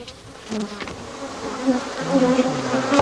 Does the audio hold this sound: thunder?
no